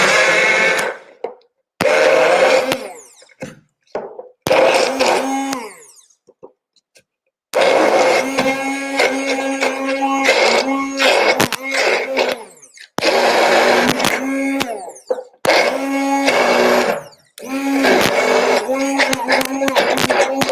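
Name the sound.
blender chopping ingredients with a little water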